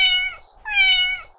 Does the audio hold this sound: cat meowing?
yes